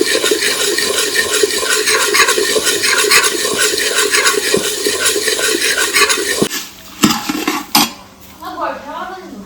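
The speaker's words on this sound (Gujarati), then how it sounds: "ને મીઠું સ્વાદ પ્રમાણે બસ મિક્સ કરી દેવાનું" Puffed rice (mamra) tossed with salt and chili in a pan makes a dense, loud, continuous rustling crackle that stops abruptly, followed by a few clinks and quieter shuffling.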